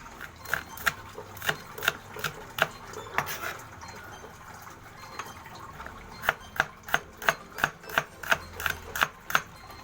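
A knife chops ingredients for dinuguan on a wooden board, close and crisp, first in loose, scattered strokes and then in a quick, steady run of even chops, with no talking.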